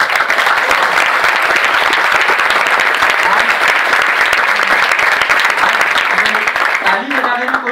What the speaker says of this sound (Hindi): बस इतनी तालियां होनी चाहिए।